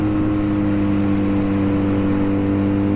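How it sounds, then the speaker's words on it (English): A 2022 BMW R NineT motorcycle engine held against the rev limiter in second gear at about 70 mph, a loud, steady droning hum with strong constant tones and no gaps. "there's the rev limiter in second, about 70 degrees, about 70 miles per hour in second, it looks like the rev limiter."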